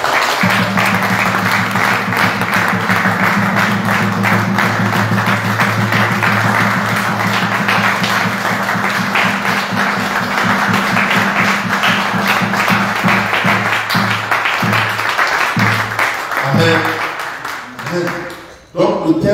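A church congregation applauds and cheers for Jesus during a French-language morning worship service, steady loud clapping for about sixteen seconds that thins out and fades near the end.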